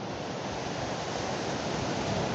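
Water cascades down a waterfall-like structure at a water treatment plant, making a continuous, even rush of broadband noise that stays close and fairly loud throughout, with no voices over it.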